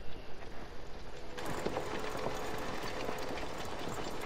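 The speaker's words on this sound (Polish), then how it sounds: "To jest najciszy ciągnik w tej grze." A very quiet tractor engine in Farming Simulator 19 (Alpine Expansion) runs at low volume, the faint mechanical drone jumping up into a steady, broad rumbling hum partway through and holding evenly.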